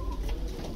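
Lal Pari pigeons at a breeder's loft give low, throaty cooing that rolls on steadily and close by, with no talk.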